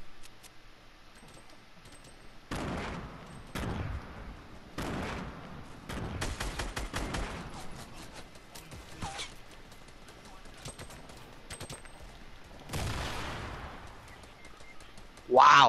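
Gunfire in the Fortnite video game comes in sharp, scattered bursts of shots, some single and some in quick clusters, over a low, quiet background.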